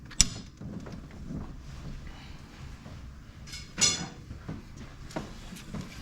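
A belt tensioner pulley on a C7 Corvette is adjusted, with close metallic clicks and ratcheting creaks in a few sharp bursts and quieter mechanical shuffling between them.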